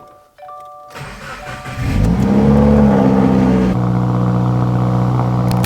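A Porsche engine turns over and starts, then revs up loudly before settling into a steady, close idle.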